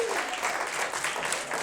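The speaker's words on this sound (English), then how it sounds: "Give yourselves a round of applause." A short burst of audience applause at an illusionist's show, many hands clapping together at moderate volume, close and dense.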